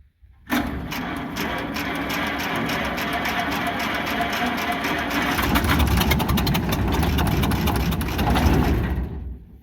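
The engine of an old, long-neglected antique combine with a stuck clutch cranks continuously for about nine seconds, a loud steady churning with a rapid rhythmic pulse that grows slightly stronger before it cuts off.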